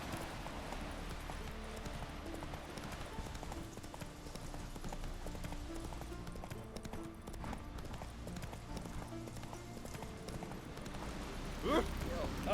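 Roach, the horse in The Witcher 3 video game, runs with a steady clip-clop of hooves under game music, while voices talk over the galloping.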